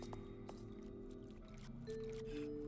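Footsteps splashing and squishing through water in the Little Goody Two Shoes video game, soft wet steps over a steady low background hum with music.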